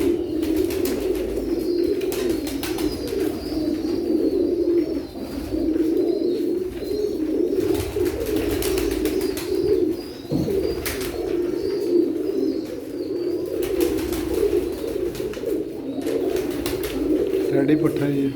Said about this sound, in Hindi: ये भी मोतियाँ वाले सियालकोट कबूतर हैं दोनों